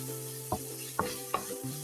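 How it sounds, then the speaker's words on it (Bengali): Coriander leaves being stirred into a frying soy-sauce mixture for a bread snack, with three sharp spatula knocks against the pan over a low sizzle and a steady background hum. "আরেকটু নেড়ে চেড়ে আমি এটি নামিয়ে রাখবো"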